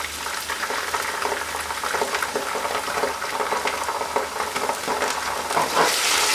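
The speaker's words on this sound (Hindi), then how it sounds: "इसे फ्राई कर लेते हैं और फिर नेक्स्ट इतना आपने प्याज को सुनहरा कर लेना है" Onions fry on a high flame in oil, turning golden for a vegetable keema, with a loud, dense, continuous crackling sizzle close up and no voices.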